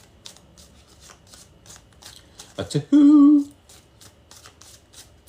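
Tarot cards are riffled in a run of quick, evenly spaced flicks, with a person speaking briefly near the middle while the soft card rustle continues underneath.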